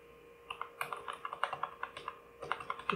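Computer keyboard keys being pressed while coding, a quick run of crisp clicks and taps in an irregular rhythm, close and fairly quiet against a steady hum.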